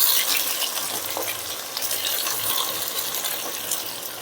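Onion and garlic fry in oil for a thokku relish, a dense, even, close hiss of sizzling throughout with no talking.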